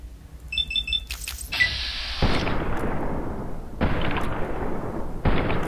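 Gunfire in VATS mode in Fallout New Vegas: after a beeping interface tone come three heavy, booming shots, each ringing out and decaying before the next.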